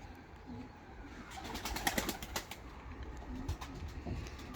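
High-flying bango pigeons in a coop give faint, soft coos with a few sharp flutters and clatters over a quiet, steady background.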